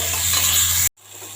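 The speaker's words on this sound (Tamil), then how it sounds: "இதையும் சேர்த்து நல்லா வதக்கிக்கலாங்க" Onion and tomato sauté in a pan for tomato biryani, a close, bright hiss that cuts off abruptly, then returns softer after a brief silence.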